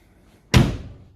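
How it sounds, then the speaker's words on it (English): A single heavy door slam on a 1969 Nissan Gloria, close and loud, with a solid low thud that rings briefly before fading. "slam the door and make a big noise"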